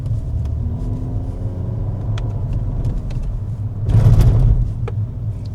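A Toyota Yaris TRD Sportivo in manual mode, third gear, gives a steady low engine rumble from inside the cabin, swelling briefly as it accelerates before settling back, with faint clicks over the drone.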